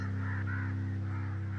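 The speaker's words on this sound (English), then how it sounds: "I hear birds. Crows?" Crows caw steadily in the game Only If, with harsh repeated calls layered over a constant low drone; the calls sound close and prominent and no one speaks.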